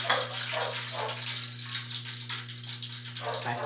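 Fresh fish is rinsed under running tap water after being dredged in wheat flour for breading, giving a steady close splash and gurgle over a constant low electrical hum, with a brief clatter near the end.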